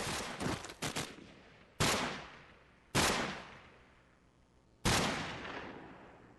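Gunfire in Call of Duty 4, including a Desert Eagle pistol: a rapid burst of shots, then three single loud reports spaced about a second apart, each with a long decaying echo.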